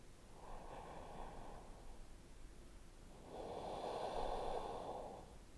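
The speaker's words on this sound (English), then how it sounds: "Just breathing nice and deep here." Two slow, deep breaths during a yoga practice, a long inhale and then a fuller exhale, close and soft with no talking.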